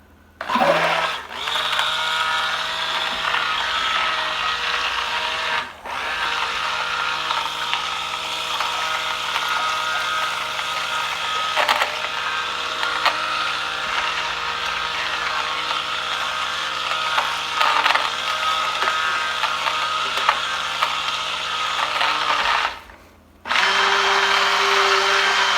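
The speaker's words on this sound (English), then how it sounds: "I'm gonna switch to this mixer." Electric mixer whirring steadily through goat milk soap batter, a loud continuous mechanical drone that briefly cuts out twice, with no talking.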